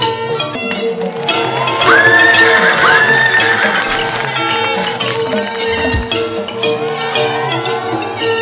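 A horse neighs loudly in two drawn-out whinnies, close by, over a steady background of hoof clip-clop and general bustle.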